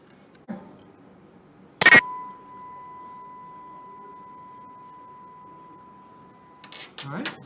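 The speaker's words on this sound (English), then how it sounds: "I've got a tuning fork. What I'm going to do here is I'm going to hit it" A tuning fork is struck once with a sharp metallic hit, then rings as a pure steady tone that fades slowly over several seconds; brief voice sounds come before the strike and after the ring.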